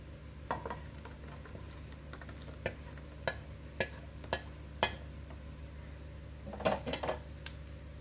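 A spoon stirs a coconut and peanut mixture into curd, producing a series of light, evenly spaced clinks against the vessel over a low steady background.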